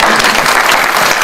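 A church congregation applauds, a dense, loud wash of clapping that fills the whole short stretch without a break.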